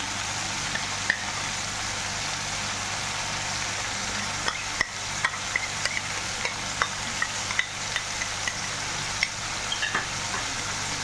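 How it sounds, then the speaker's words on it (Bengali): Cumin, coriander and dried red chilli pastes fry in oil while being stirred for a spicy fish roe dish, a steady close sizzle with small, regular taps of the spoon against the pan, no speech. "এখন বাকি মশলাগুলোকে ভালো করে কষিয়ে নিতে হবে যেন কাঁচা গন্ধ না থাকে।"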